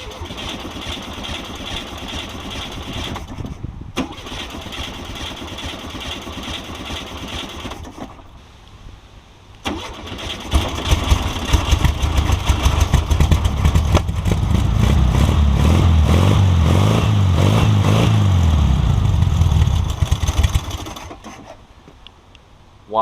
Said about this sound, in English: put some choke on, and let's see if it fires up